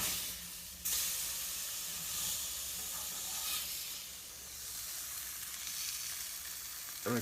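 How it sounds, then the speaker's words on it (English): A burger patty sizzles loudly and steadily in a hot pan, a constant crackling hiss that continues unbroken with no talking. "check out that burger sizzle"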